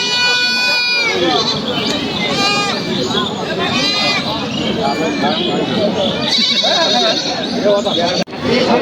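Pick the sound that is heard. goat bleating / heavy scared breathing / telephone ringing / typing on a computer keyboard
goat bleating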